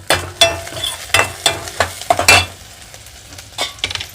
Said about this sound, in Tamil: வெங்காயம் வதங்கட்டும் நல்லா